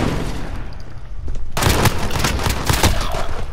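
Rapid gunfire from a Call of Duty 3v3 Gunfight match on the Rust map, a quiet stretch giving way to dense, loud bursts of automatic shots that keep going to the end.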